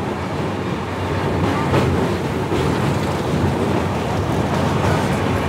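A train crosses a bridge over the Teesta river, a continuous broad rumbling roar that swells slightly midway and holds steady throughout.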